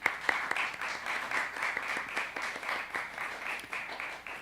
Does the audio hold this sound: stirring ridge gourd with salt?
no